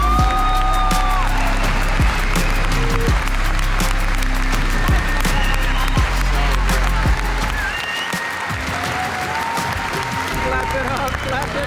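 Dense audience applause with some cheering from a large crowd, sustained and loud across the whole stretch without letting up.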